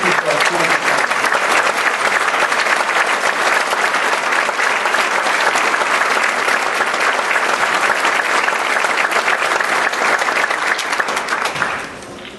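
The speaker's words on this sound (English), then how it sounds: "I'd like them to all stand for a round of applause and recognition." A large audience at a medical school commencement ceremony applauds the clinical faculty with loud, dense clapping. It holds steady for about twelve seconds, then fades out quickly at the end.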